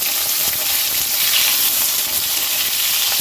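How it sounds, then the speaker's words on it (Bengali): Cauliflower and flat beans fry in oil with bay leaf, dried chilli and panch phoron, giving a loud, steady, close sizzling hiss throughout with no talking. "ফুলকপি আর শিমটা ভালো করে ভেজে নেবো"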